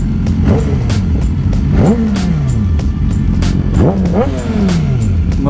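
BMW S1000RR sport motorcycle engine revved repeatedly, loud and close, with sharp rising and falling throttle blips in quick succession and no talking.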